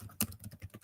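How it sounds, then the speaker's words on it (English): Fingers tap a computer keyboard in a short, quick run of soft keystrokes, one sharper clack standing out among the quiet, evenly spaced clicks. "The typing noise."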